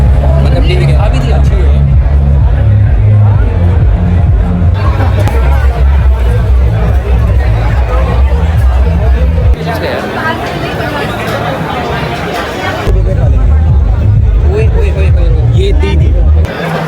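A dense crowd at the ALLEN Victory Carnival fills the air with loud, overlapping chatter and babble, with a brief quieter dip partway through.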